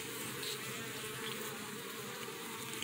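Honey bees hum in a dense, continuous, close buzz around an open hive during a frame inspection, a steady drone without speech.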